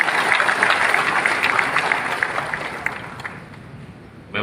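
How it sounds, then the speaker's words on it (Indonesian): A crowd at a Bali campaign event applauds for the people of Bali, a dense burst of clapping that gradually thins and fades, ending in a brief sharp sound. "Aplaus dulu untuk masyarakat Bali."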